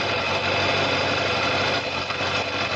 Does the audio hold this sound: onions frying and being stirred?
no